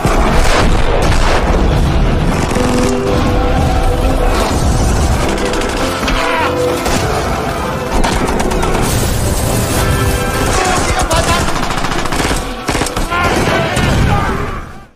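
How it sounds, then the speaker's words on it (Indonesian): Rapid gunfire, bursts of machine-gun fire and booming explosions fill a WWII battle scene between Soviet and Nazi German troops, loud and dense throughout, with a narrator's voice faintly mixed in. "Baku tembak dan korban berjatuhan pun tidak dapat dihindari"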